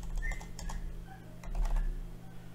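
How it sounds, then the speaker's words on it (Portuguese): Keys clatter on a computer keyboard as a search word is typed, giving a close, quick, uneven run of soft clicks over a low steady hum, with no talking. "Comece a digitar a palavra comprar."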